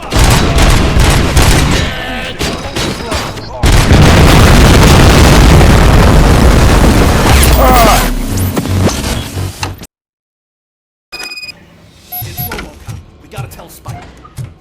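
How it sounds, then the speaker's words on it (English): Heavy gunfire and explosions in the PS5 game RoboCop: Rogue City, with a dense, roaring barrage of rapid shots and blasts. It drops into a brief silence, then resumes as a few sparser, quieter shots. "Am I hearing gunshots?"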